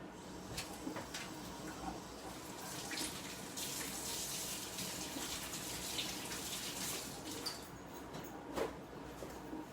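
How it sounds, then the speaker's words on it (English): Hands being washed under a running kitchen tap, a faint continuous stream of water with small splashing variations, fairly quiet and steady with no talk. "I'm going to wash my hands one more time."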